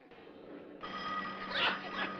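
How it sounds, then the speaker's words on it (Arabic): A telephone ringing in a cigarette kiosk, a steady electric bell tone that grows louder partway through, with a brief rise in pitch near the end. "ده التليفون."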